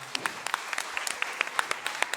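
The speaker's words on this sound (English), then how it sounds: "please, round of applause for yourselves and your support" Scattered applause from the audience at a Groton Middle School talent show, a thin spread of claps with a few sharp, distinct hand claps standing out, moderately loud and steady.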